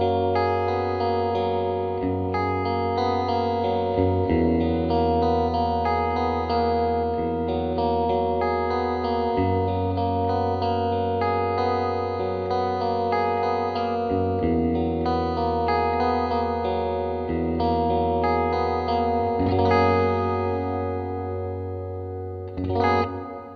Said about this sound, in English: So next up is the Hall Reverb, and TC are known for making some of the most beautiful natural sounding Hall reverbs in the world